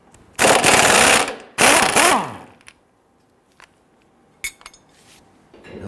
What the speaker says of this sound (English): Disconnect our sway bar end link from the sway bar and use a 17mm socket on the nut side.